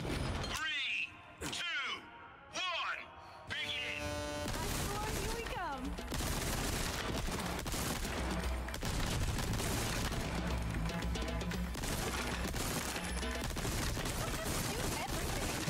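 Gunfire from a machine gun and riot guns in Resident Evil 4 Remake, starting as a few sharp shots and building into dense, continuous loud fire, with voices talking over part of it.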